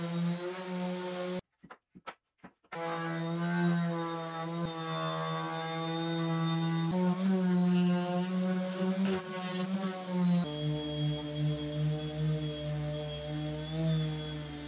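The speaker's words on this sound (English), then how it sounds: "when I'm using the sander, I can just glide over all the same size pieces without doing each individual piece" An electric sander works across several same-size wooden bed pieces at once, a steady droning hum with shifting tone, briefly cut off near the start and then running continuously with slight changes in pitch.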